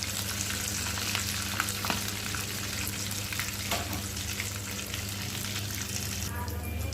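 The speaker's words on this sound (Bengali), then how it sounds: "আসলে যতটা আস্তে করে দিয়ে ভাজা হবে ততটা ক্রিস্পি হবে" Chicken donuts deep-frying in hot oil at home, giving a loud, continuous sizzle that stays steady throughout, with small crackles and a brief shift near the end.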